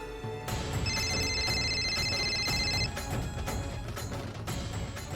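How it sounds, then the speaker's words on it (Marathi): A phone rings with a repeating electronic tone in a drama scene, the ringing set against a dense music score that fills the background throughout. "तिलोत्तमा इतक्या वर्षांनी ही का फोन करते?"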